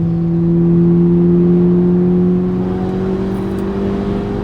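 A Stage 2 Volkswagen Golf R with an APR short shift kit accelerates hard at night, its engine a loud droning note that climbs steadily in pitch, heard from inside the car with steady road roar beneath.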